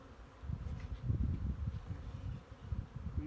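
Honeybees at an opened hive during a spring check, a low, uneven buzzing hum close by that swells and dips, with faint rustling around it and no talking.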